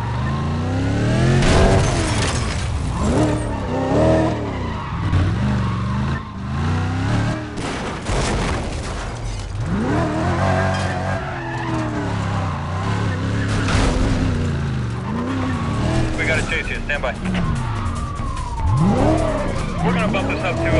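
In NFS Undercover, a McLaren F1 races at sustained high revs, its engine note rising and falling through gear changes, with tire squeals and skids throughout. Voices speak over the driving.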